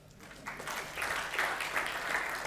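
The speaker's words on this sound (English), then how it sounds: "Round of applause." Moderate audience applause for Jed at a business gathering, the clapping swelling in after a brief quiet start and holding steady.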